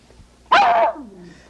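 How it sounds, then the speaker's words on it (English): A single loud, close dog bark bursts out for about half a second, followed by a lower trailing whine or growl, with quiet background before and after. "here's Spot the Wonder Dog, but don't worry, he's had his shots"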